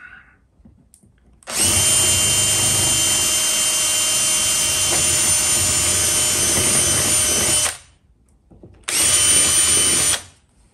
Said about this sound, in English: 5mm drill.